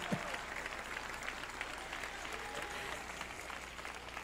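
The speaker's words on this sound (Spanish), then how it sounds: "la primera vez que me aplauden cuando digo eso" Steady applause from a church congregation during a Spanish-language sermon, a dense even patter of clapping that fills the whole stretch at moderate level with no voices over it.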